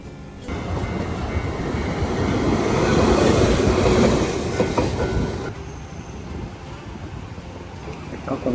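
A train passes in Nishinari, Osaka, a loud, close rush of rumbling wheels with clickety-clack and a faint squeal, swelling to a peak midway before dropping away to a lower trailing rumble.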